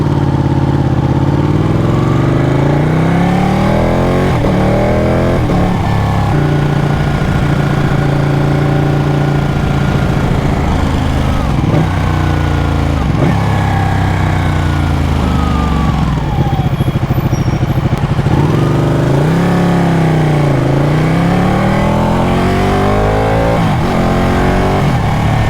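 A Ducati Panigale 1199 motorcycle engine revs loudly and continuously while riding, with repeated rising and falling sweeps as the throttle opens and the gears shift, and no voices over it.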